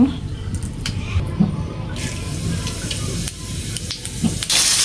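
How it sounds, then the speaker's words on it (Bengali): Cumin seeds dropped into hot oil left from frying shrimp in a village kitchen, giving a steady close hiss and sizzle with small crackles and a louder spitting surge at the end. "তো চিংড়ি মাছ ভেজে রাখা এই তেলের মধ্যে কয়েকটা জিরা দিয়ে দিব।"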